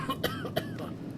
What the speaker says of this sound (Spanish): ¿Desde cuánto tienes esa tos?